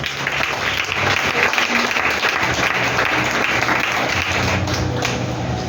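A church congregation applauding together, dense sustained clapping close and loud throughout, with crowd murmur mixed in.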